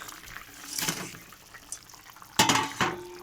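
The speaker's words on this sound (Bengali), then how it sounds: "তো আমার ঝোলটা ফুটে গেছে। এবার আমি এক এক করে বড়াগুলো ছাড়বো, সোয়াবিনের বড়া" Soybean fritters dropped one by one into a pot of boiling curry, giving a few separate soft splashes and plops against a quiet bubbling background, close by with no talking.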